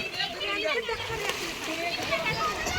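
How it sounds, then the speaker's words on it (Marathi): Children splash and play in water at a farmhouse, a steady busy splashing and spattering that runs throughout with kids' voices mixed in close by. "जेवण करून परत पाण्यात भिजायला गेले हे"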